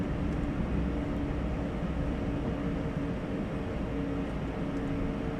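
Engines of an Airbus A220 in a flight simulator giving off a continuous, even roar layered with a steady whining hum, moderately loud and unchanging throughout, with no voices.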